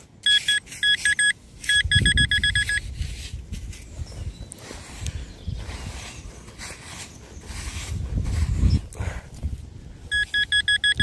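Rapid electronic beeps from a metal detector in short pulsed bursts sound at the start, middle, and end, over low rustling and scraping noises from digging.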